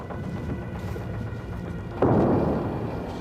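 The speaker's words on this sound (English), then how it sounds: "There's an explosion just there right now, yeah?" A single loud, close explosion at a military base in Afghanistan under sustained attack, a sudden broadband blast that jumps above steady background rumble and then slowly decays.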